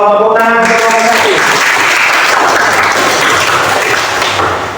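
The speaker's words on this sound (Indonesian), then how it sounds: "Tepuk tangan kelompok 1." Loud classroom applause for a student group during a lesson, dense clapping that starts right after a brief voice and carries on strongly before tapering slightly at the end.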